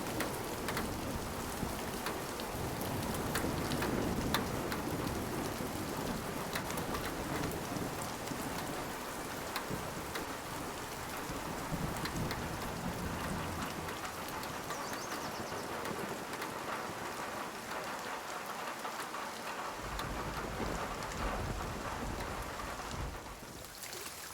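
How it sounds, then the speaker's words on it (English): Steady rain pattering on varied material surfaces in the survival game Nightingale, with a low thunder rumble underneath, forming a dense, continuous ambient wash with no voices. "There are many surfaces in the game which play back a material-based rain loop."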